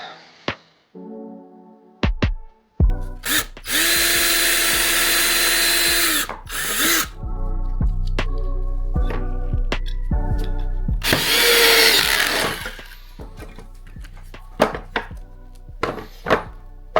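A power drill whirs loudly in two long bursts while mounting parts on a homemade telemark snowboard, separated by sharp knocks and clatter, with tool noise and thumps continuing between them.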